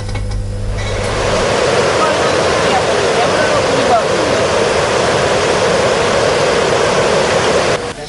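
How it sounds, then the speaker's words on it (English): Water roars steadily out of the opened spill gates of the Vamadilla Reservoir in Dambulla, a loud, dense and continuous rushing that holds from start to finish. "Spill gates in the Vamadilla Reservoir in Dambul were open as a result of the reservoir reaching spill level."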